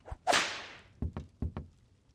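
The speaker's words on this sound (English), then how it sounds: "My whip, of course." Leather whip cracking: one sharp, bright crack with a swishing tail, then four quicker, softer snaps in two pairs, all fairly quiet and with no talk.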